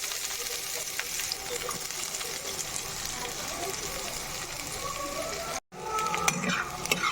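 Chopped onion sizzles and crackles steadily in hot oil in a pan while dal is being prepared at home, with spoon stirring and a brief drop to silence near the end before the frying resumes.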